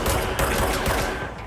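Rapid, continuous gunfire from the video game Control forms a dense, loud barrage that fills the whole stretch with no gaps.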